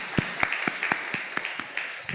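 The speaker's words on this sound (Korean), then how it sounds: "우리 수고해 주신 김재 집사님 박수로 정리해 주시면 고맙겠습니다." Scattered hand claps from a church congregation during a Sunday worship service, about nine separate claps spaced through a couple of seconds, sparse rather than a full ovation, over quiet room tone.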